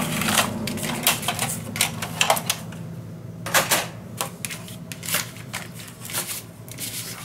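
Paper being cut with scissors for a scrapbook mini album, a close run of crisp snips and rustling handling sounds in uneven bursts, fairly quiet.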